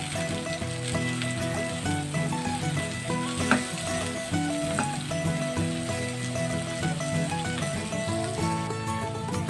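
Curry leaves frying with onion in a pan give a dense, continuous loud sizzle and crackle that holds steady from start to finish with no talking.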